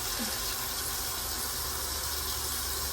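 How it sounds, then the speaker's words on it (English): Water from a cup pours into a pan of cooked beef to make a thick Thanksgiving sauce, a steady close splashing gush that runs throughout with no talk. "And add the water."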